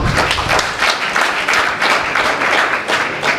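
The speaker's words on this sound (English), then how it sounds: "give him a round of applause" Audience applause fills an evening event honouring a session guest, steady dense clapping from a crowd with no talk over it, carrying on throughout.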